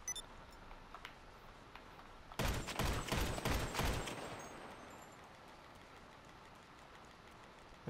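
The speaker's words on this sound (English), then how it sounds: "I can hear bullets whizzing past my ear" A burst of rapid gunfire in GTA V, a dense rattling volley lasting about two seconds at middling distance, then a quiet background hum.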